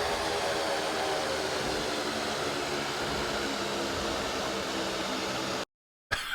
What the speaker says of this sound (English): Hey, Marlin Spike, you want to fly me a new engine in here? I think I'm gonna need it